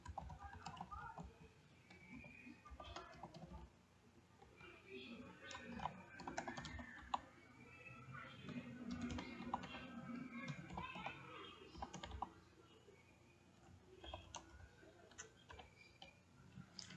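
Soft, quick typing on a computer keyboard, irregular clicks running steadily through the background at low level.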